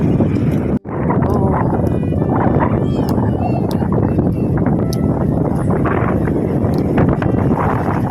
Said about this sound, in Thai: ลมก็จะแรงๆหน่อยนะคะ